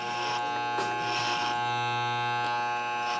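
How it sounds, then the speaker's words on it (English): Electric hair clipper buzzing steadily and close while cutting a low drop fade, moving up through combed hair, a continuous tonal hum with slight changes in load. "I comb in and then go up with the clipper"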